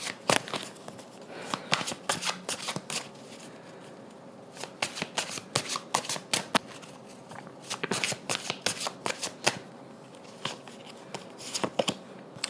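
Tarot cards shuffled by hand, bursts of quick riffling flutters and crisp snaps repeating irregularly, close and fairly loud, with brief quiet gaps between shuffles.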